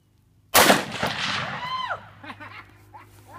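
One sharp AR-15 rifle shot cracks outdoors at a target range, followed by a rolling echo that fades over the next few seconds.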